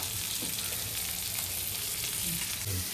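Oil sizzles and fries steadily in a pan while ingredients for a dried-fish curry cook, a dense, constant crackling hiss with no voices.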